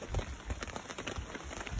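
Steady rain patters at a campsite, drumming on a rain fly stretched over a picnic table, a dense continuous hiss with scattered close drips throughout.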